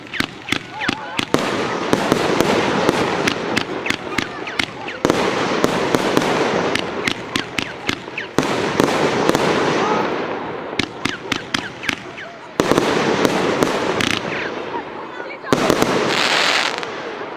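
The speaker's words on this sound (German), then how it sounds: "die Amsterdam, eine 36 Schuss Fächerbatterie der Firma Bauer" Bauer Amsterdam 36-shot fan battery firing at a New Year's fireworks product demonstration in Meißen, a rapid series of loud, sharp cracking bursts in several volleys with short pauses, while someone comments over the shots.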